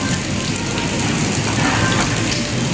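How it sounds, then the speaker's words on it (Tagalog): Steady rain falls along the Pasig River esplanade, an even, close wash of drops hissing on surfaces with no pauses, continuous and fairly loud throughout. "Pero ang ulan, wala na yung buhos na malakas kanina, oh."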